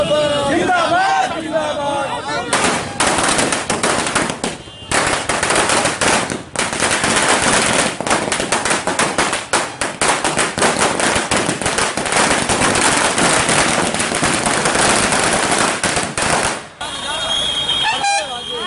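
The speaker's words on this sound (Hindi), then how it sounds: "युवा मोर्चा के कार्यकर्ता सब लहरियासराय टावर पर आतिशबाजी का जश्न मनौलन" Firecrackers and fireworks set off by BJP youth wing workers celebrating at Laheriasarai Tower, a loud, dense run of rapid crackling bangs that barely pauses, with crowd voices mixed in.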